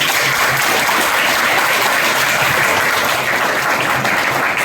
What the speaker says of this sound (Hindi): यहाँ पे स्टेज पे आके जो बच्चों ने यहाँ पे बोला उसके लिए जोरदार ताली